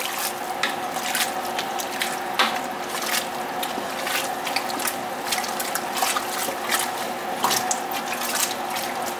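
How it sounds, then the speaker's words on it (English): Water pours and trickles into a stew pot with a steady splashing, mixed with small clinks and wet squishing sounds, close by. "I'm gonna have to add a little water here to this"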